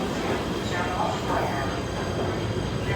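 A PATH commuter train running to Hoboken between New Jersey and New York makes a loud, continuous rumble of wheels and cars on the track, with a steady rushing roar and faint voices mixed in.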